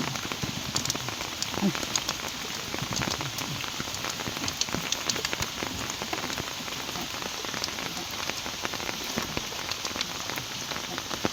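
Steady rain pattering on surfaces outdoors, a dense continuous patter of drops, moderately soft and even with no talk.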